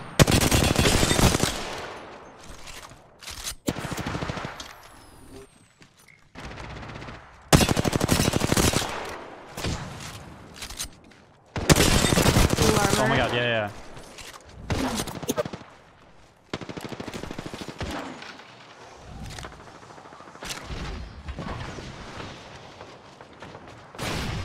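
Gunfire from an Apex Legends match comes in repeated bursts of rapid shots with pauses between volleys, loud and close, while other weapons crackle in the background.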